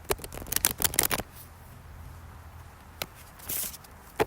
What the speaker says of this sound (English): we got to shuffle the cards